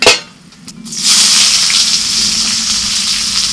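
Chopped onion hits hot mustard oil with bay leaf, dried chilli and whole spices, bursting into a loud, steady sizzle after a brief clatter, then frying evenly and close at hand.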